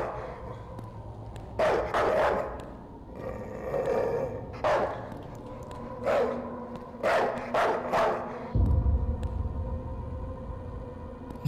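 Dogs bark in a video game in short, loud bursts that are spaced a second or two apart, with growls and whimpers between them.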